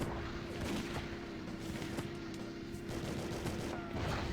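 Rapid gunfire in The World Is Not Enough video game, sustained bursts of shots aimed at a fuel dump, continuous and dense over a low droning background, with no talk.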